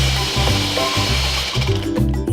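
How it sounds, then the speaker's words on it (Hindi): A blender churns chocolate lassi with ice cubes, its loud close motor whirring in uneven pulses with brief dips between surges. "और हम थोड़े से डालेंगे आइस क्यूब्स और अब इसे ब्लेंड कर देते हैं।"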